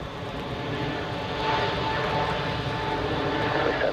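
An airliner takes off from runway 28 at Zurich Airport, its engines a continuous broad roar heard from a distance that swells slightly partway through.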